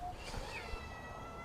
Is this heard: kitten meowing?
yes